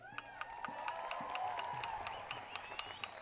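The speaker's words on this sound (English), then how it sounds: "Round of applause for Stephen." A crowd at a Sydney protest rally to change the date of Australia's national day claps and cheers in a dense, steady wave of applause lasting throughout, with a voice faintly audible beneath it.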